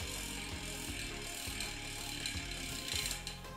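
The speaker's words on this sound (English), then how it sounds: "And famous ratchet system." A DT Swiss HXC 1200 Hybrid 30 rear hub on an enduro e-bike, its ratchet freewheel giving a quiet, close buzzing click that repeats in steady rhythmic pulses as the wheel coasts.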